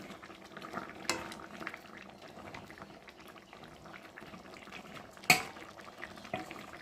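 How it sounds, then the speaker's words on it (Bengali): A spatula shifts fried fasa fish around in a pan of mustard gravy, with a steady soft bubbling simmer and occasional sharper scrapes and clinks of the utensil against the pan. "খুন্তি দিয়ে মাছগুলোকে একটু ভালো করে সরিয়ে সরিয়ে দেব।"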